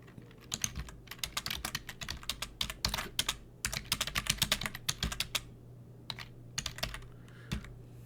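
Notes are typed on a computer keyboard into a CRM contact record, rapid close key clicks in bursts with short pauses, over a faint low hum.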